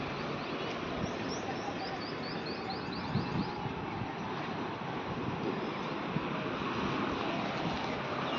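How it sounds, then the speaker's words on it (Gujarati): Morning wind blowing outdoors makes a steady rushing hiss, with small birds chirping in the background. "બહાર પવન આવે છે મસ્ત મજાનું"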